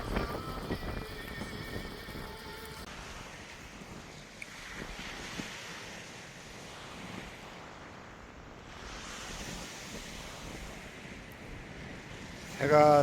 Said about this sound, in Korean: 해안가는 철퍼덕거리고 있고요. 철썩철썩.